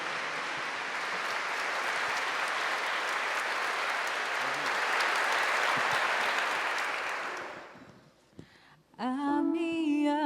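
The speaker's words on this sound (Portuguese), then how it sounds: "Aplaudamos o Santo Evangelho proclamado" A church congregation applauds after the Gospel reading, a steady, dense clapping that swells and holds for several seconds, then fades out before music begins.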